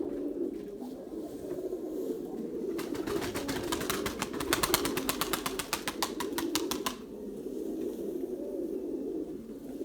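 A pigeon claps its wings in a rapid burst of flapping over a steady background murmur, with the flutter lasting several seconds before fading out.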